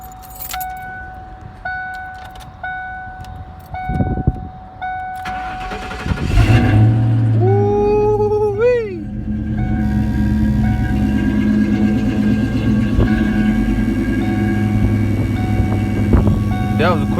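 A Ford Mustang GT's V8 cranks briefly on a cold day, catches fast and settles into a loud, steady idle with a deep rumble. Keys jangle before the start and a voice speaks faintly early on.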